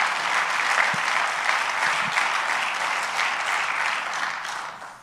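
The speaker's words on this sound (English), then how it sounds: "I believe that is worthy of a hand clap of praise to the Lord" A congregation claps in praise during a church sermon, a dense, even wash of applause from many hands that holds steady and then begins to fade at the end.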